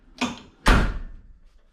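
Two solid slams of the cab door on an LMTV military truck, a lighter thud followed by a heavier, louder closing bang, close up with no talking.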